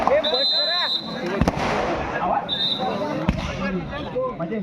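Firecrackers and fireworks go off at a kabaddi match, with sharp bangs and crackling bursts under a continuous commentator's voice and crowd noise, plus whistling shrieks rising between the blasts.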